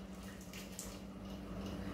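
Water is poured into a cooking pot while making chana dal sundal in a home kitchen, a soft continuous splashing trickle, fairly faint and steady, with no talk over it.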